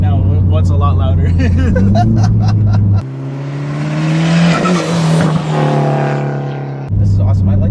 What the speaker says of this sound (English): And then I got an open dump wastegate.